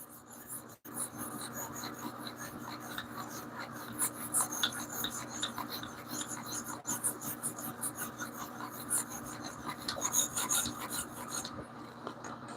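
A knife is drawn across a 1000 grit stone on a TSProf Kadet Pro guided sharpener, making steady, close, rhythmic rasping strokes that continue without a break.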